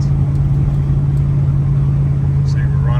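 A 1981 Chevrolet C10 Custom pickup cruising down the road, heard from inside the quiet cab as a steady, even low engine and road drone with a constant hum and no changes in pace.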